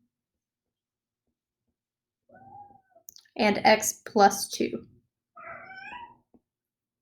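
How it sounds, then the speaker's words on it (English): A cat meows a few times indoors during a calculus lesson, short mid-pitched calls mixed in with a man's nearby speech. "Now the cat's making noise."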